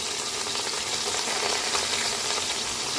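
Meat frying in a pot with star anise and cinnamon sticks, a dense, loud, continuous sizzle with fine crackling, close up and without talk.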